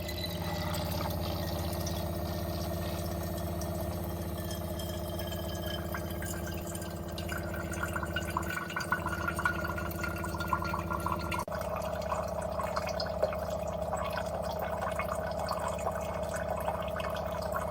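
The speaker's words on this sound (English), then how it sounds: "And it will start to filter that water." An Ecoviva MATE3 water dispenser filters and pours water with a quiet, steady hum and a soft, continuous gurgling trickle that runs evenly throughout, heard alone without talk.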